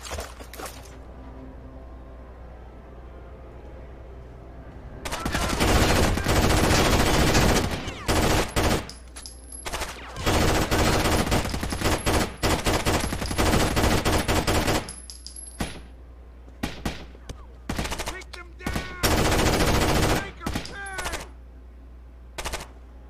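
Sustained automatic gunfire in Rainbow Six Vegas 2, with loud rapid bursts shot through walls, near and harsh, broken by short pauses between long volleys.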